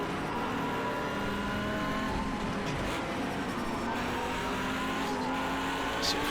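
A race car engine in Project CARS 2, droning at steady high revs close by and loud throughout, with faint tire noise and no talking.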